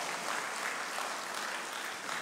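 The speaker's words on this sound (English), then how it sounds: "Let's give them the best clap offering." A congregation claps in appreciation for the children's ministry teachers, a dense, steady wash of applause throughout.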